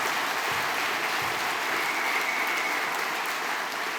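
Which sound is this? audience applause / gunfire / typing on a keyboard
audience applause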